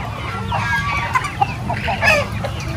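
Chickens inside a coop cluck nearby in short, overlapping bursts, with a faint steady background hum.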